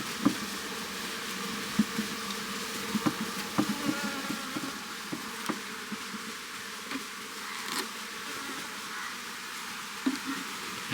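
Italian honey bees buzzing around a hive box, a dense continuous drone close by with occasional sharp clicks and taps over it.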